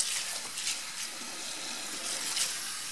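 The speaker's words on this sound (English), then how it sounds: "just run clear water over your mats" Clear water runs steadily from a pull-down kitchen tap into a sink, a continuous hissing splash at close range with no talk over it.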